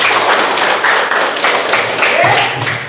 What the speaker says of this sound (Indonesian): Mari kita tepuk tangan bersama.